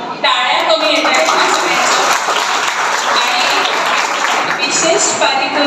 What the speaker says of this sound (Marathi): टाळ्या कमी येत आहेत.